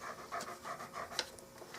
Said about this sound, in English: Excuse the panting.